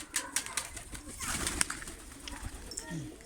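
Several pigeons coo softly near a coop outdoors, their low murmuring calls joined by faint rustling and a few light taps, with people talking quietly in the background.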